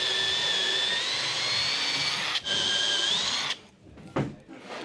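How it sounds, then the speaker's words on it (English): A power drill drills a clearance hole for a screw while a ceiling is being levelled, a loud, close, steady whine that dips briefly and then stops, followed by a short scrape. "Just stand over it like this so I can see where the drill's going"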